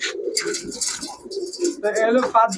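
Pakistani-breed pigeons coo in soft, throaty, rolling calls close by, mixed in with someone talking over them.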